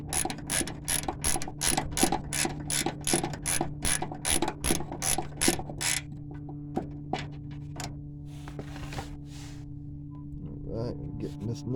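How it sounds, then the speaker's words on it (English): A hand ratchet clicks rapidly in quick strokes, loosening a nut on the fuel tank strap bracket of a 1997 GMC, then stops while a low steady hum continues and someone speaks briefly. "Alright, getting this nut off right there."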